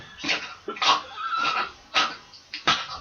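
A human voice imitates an old toothless Yorkshire Terrier lying down, producing several rasping, wheezy, whinny-like bursts with short gaps between them, close and fairly quiet.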